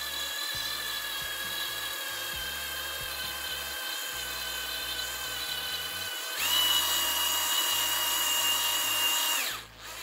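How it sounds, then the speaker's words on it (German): Cordless drill driver turning a thread tap slowly into a piece of wood, a steady whining motor hum with a brief pause, then a higher pitched run before it stops. "Jetzt nehme ich hier mein Holzstück mit dem Gewindeschneider, spanne das Ganze hier in meinen Akkuschrauber schön fest."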